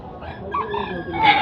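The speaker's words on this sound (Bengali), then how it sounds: "এখানে আমরা দেখতে পাচ্ছি বিভিন্ন ফ্যান্সি জাতের মুরগি আছে।" A fancy-breed rooster crows at a livestock exhibition, a short, fairly loud strained call rising at the end, with faint crowd murmur behind.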